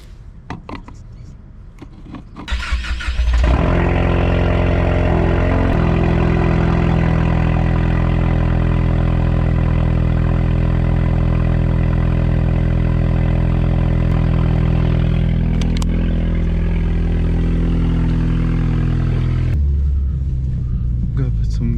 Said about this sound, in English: Give you guys a cold start.